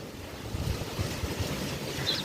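Strong gusting wind buffets the microphone outdoors by a house with loose corrugated metal roof sheets, a steady low roar with surging rumble and a faint hiss, no talking.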